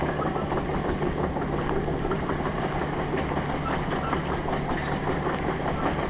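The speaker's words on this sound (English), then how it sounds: "Excavator's here. She's a big one." A large excavator's diesel engine idles steadily in the open, a continuous low rumble with a mechanical hum that holds at an even level throughout, with no talking.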